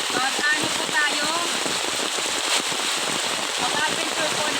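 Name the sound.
heavy rain falling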